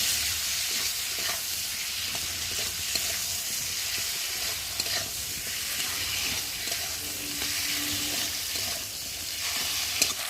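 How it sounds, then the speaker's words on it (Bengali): Masala of ginger paste, cumin paste and tomato fries in a pan, a steady close sizzle with stirring and faint watery bubbling throughout, no talk. "আদা বাটা, জিরে বাটা, আর একটা দেবো টমেটো। দিয়ে মশলাটা ভালোভাবে কষিয়ে নেব।"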